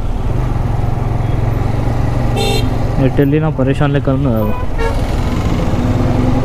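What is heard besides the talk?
heavy road traffic with car horns honking, Aliabad, Hyderabad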